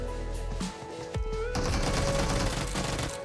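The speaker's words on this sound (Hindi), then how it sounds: "उसके बाद पीछे से फायरिंग का साउंड काफ़ी ज़्यादा आ रहा था।" Rapid automatic gunfire in PUBG Mobile rush gameplay: dense, overlapping bursts of shots that grow louder and more continuous partway through, with no voices over them.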